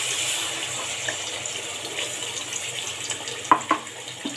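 Spice paste fries in a little oil in a wok, giving a steady soft sizzling hiss with a few small pops and clicks near the end, moderately quiet and close.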